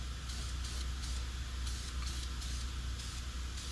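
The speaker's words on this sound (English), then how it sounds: "I usually just spray till it starts running off in the floor." Coating sprayed steadily onto the floor of a 1956 Chevy truck, a continuous close hiss pulsing in short bursts, with no one speaking.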